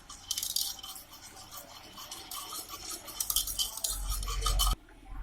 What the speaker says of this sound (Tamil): இது ரெண்டுத்தையும் சேர்த்து நல்லா கலந்து விட்டுக்கோங்க